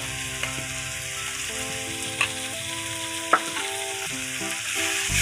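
Ginger garlic paste frying with glassy softened onions in a pan for prawn thokku, a steady sizzle with stirring scrapes and a few sharp clinks of the spoon, no talk.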